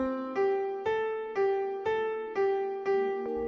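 Piano playing a melody generated by a Markov-chain algorithm: single notes struck at a steady pace of about two per second, each ringing and decaying before the next, clear and alone with no talking.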